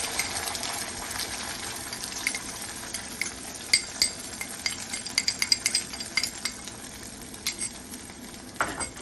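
Ground onion paste hisses and sizzles in hot oil over a slow flame for a prawn gravy, a steady frying crackle with soft clinks and stirring taps scattered throughout.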